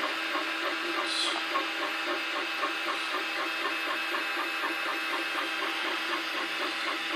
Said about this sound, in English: it's going layer by layer and it's trying to print the job into it